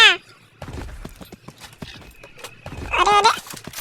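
Horse hooves clip-clop in a Hindi-commentated battle royale shooter game, a steady trotting rhythm under voices, ending with a loud whinny near the close.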